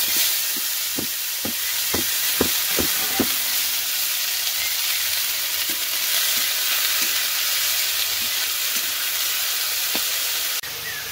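Leafy greens sizzle and fry in a hot wok of oil with nigella seeds, a steady broadband crackle running throughout, with a few sharp pops and spits near the start and no voices.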